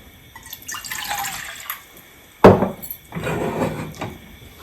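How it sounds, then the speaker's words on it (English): About half a cup of water poured into a saucepan on a gas stove for chai, a short splashing pour with a sharp knock, then a second softer stretch of running water, close and moderately loud. "in a saucepan add about half a cup of water."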